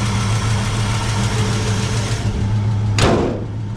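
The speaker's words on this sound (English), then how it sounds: "you get a little bit of that tick from right back there. It's back there in the back. You can hear it." A 1964 Chevrolet Malibu Chevelle engine idles steadily with a low, even rumble, a faint tick from the rear mixed in, and a brief louder clunk near the end.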